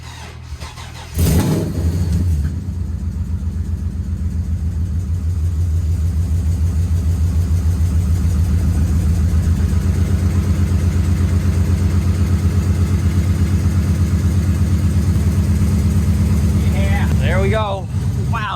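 A Cummins diesel engine fitted in a Trans Am with a leaking exhaust manifold cranks briefly, then fires and settles into a loud, rough, chugging run nearby, with people talking over the steady rumble.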